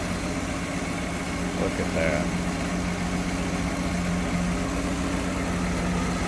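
A 1966 Ford Mustang convertible idles with a steady low hum, even and smooth throughout, while someone talks briefly over it.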